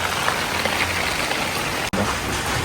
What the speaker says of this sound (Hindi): अभी बारिश लगी हुई है